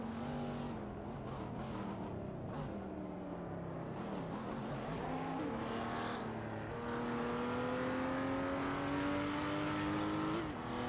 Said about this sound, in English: We're currently in a racing simulator, and the R-driven cars are going full throttle